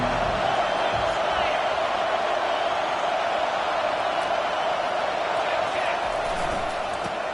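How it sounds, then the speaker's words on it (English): A football stadium crowd roars steadily and loudly, with a dense wall of cheering that holds at the same level throughout. "This crowd bringing an ear-splitting welcome to their visitors."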